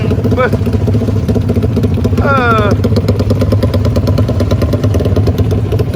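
A Yamaha RXZ motorcycle engine and exhaust rumble steadily throughout on a group ride, with a bird-like chirp and a brief rising whine over continuous traffic noise and voices in the background.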